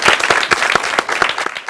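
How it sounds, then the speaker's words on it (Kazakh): An audience at a comedy show applauds, a dense, steady patter of many hands clapping close and fairly loud. "Қалай енді шапалақ ұрмаймыз енді?"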